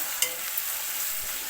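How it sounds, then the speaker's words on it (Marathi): Onion and tomato sauté in a pan, a steady close sizzle and frying hiss with a light scrape of stirring, alone with no talking. "कांदा टोमॅटो एकदम नरम होईपर्यंत चांगलं परतून घ्यायचं।"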